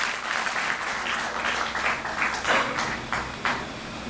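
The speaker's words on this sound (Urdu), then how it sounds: "تالیوں سے سواگت کریں" An audience at a Muslim Rashtriya Manch discussion meeting claps steadily to welcome a speaker. Dense, sustained applause fills the hall, with a few louder bursts near the end.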